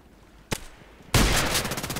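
Gunfire in the shooter game Contract Wars: one sharp close shot, then a burst of rapid repeated shots that keeps going loud to the end.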